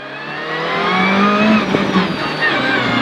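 A Renault Clio rally car launching at the start of a rally stage, its engine revving hard and rising in pitch as it accelerates away, loud and close with some tire noise.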